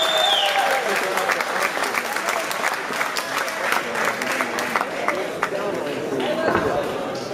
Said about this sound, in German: So, nochmal hier Applaus für diesen wirklich tollen Kampf.